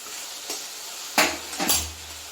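Water splashes into a pan of frying mustard spice paste for a rohu fish curry, setting off two sharp bursts of hissing sizzle close by, with light utensil clinks in between.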